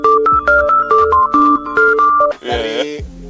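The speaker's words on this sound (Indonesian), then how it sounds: "ada telepon berdering" A telephone rings with a rapid, repeating electronic tone in short bursts, followed by a brief burst of rougher warbling sound at the end.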